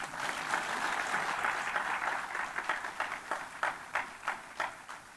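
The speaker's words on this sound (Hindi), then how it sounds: "ताली नहीं मारेंगे आप?" An audience claps at a Harela event at GBPUAT, Pantnagar. The applause is fairly faint and diffuse at first, then settles into more distinct rhythmic claps.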